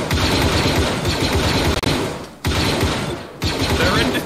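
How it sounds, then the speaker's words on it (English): Rapid blaster gunfire in a Star Wars–style shooter game, sustained loud bursts of automatic fire with brief gaps, close and dense, with a voice faintly under it. "Oh, we're taking shots from the fucking hill again."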